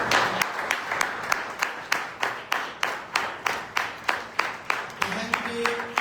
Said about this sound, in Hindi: बहन शमीम के लिए जोरदार तालियां